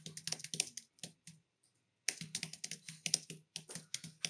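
Typing on a computer keyboard: quick, uneven bursts of close key clicks, a brief pause in the middle, then a steady run of keystrokes, quiet and with no talking.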